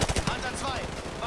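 Rifle fire in the video game Modern Warfare 2 Remastered, a quick burst of several sharp shots at the start followed by a ringing tail and game ambience.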